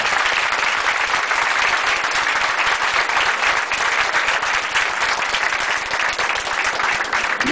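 A large crowd at a political rally in Côte d'Ivoire applauding the launch of the new party Union pour la Côte d'Ivoire, a loud, sustained wall of dense clapping that holds steady without pause.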